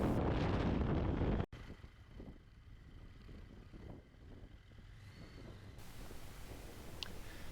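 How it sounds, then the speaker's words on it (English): Strong wind buffets the microphone while a motorcycle rides across an open, treeless plain in Western Australia, a loud steady roar with low engine rumble beneath, briefly cut near the start and then continuing unbroken. "When the trees disappear, the wind really pipes up."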